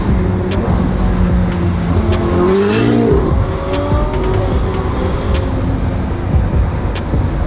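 A Ferrari supercar roars close by, the engine note rising and falling through revs as it drives off, loud and continuous with a brief tire squeal in the middle.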